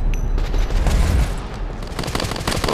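Gunfire rattles in the video game Modern Combat 3: Fallen Nation, rapid close bursts of automatic shots with heavy low thumps, dense and loud throughout.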